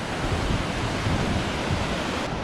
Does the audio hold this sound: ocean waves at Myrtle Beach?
yes